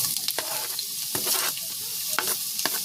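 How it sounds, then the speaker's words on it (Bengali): Chopped onion and green chili fry in mustard oil in a pan for a vegetable momo filling, with a steady close sizzle and sharp scraping stirs of a spoon. "আমি পেঁয়াজটা একটু ভেজে নেব।"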